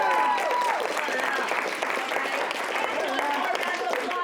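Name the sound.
applause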